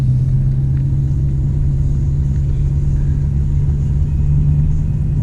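A manual Dodge Challenger's engine drones in a higher gear as it is revved a little higher, a steady low rumble heard from inside the car with no voices.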